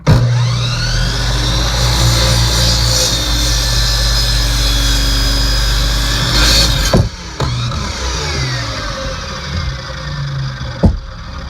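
Power saw cutting wooden posts to length for portable physical therapy hand rails, a loud steady whine and grind for about seven seconds, then stopping abruptly, with a brief spin-down and one short final burst near the end.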